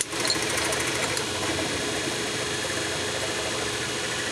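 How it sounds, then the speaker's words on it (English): A drill boring into brass during a winch repair, a steady, loud mechanical whine and buzz that holds constant with a slight rattling vibration and no pauses. "Because we're drilling brass here, guys."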